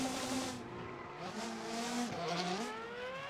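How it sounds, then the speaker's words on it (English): A Formula 1 Ferrari and a Ford Fiesta rally car on a rally stage in Assetto Corsa, engines revving and shifting through gears with rising and falling pitch, plus tyre squeal and skidding, moderately loud and continuous. "And the Fiesta tries its best, but it's just no match to the Formula 1 car, even at its home turf."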